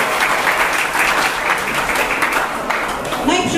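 An audience at a volunteer day celebration in Zambrów applauds. Dense, loud clapping runs without a break from start to finish.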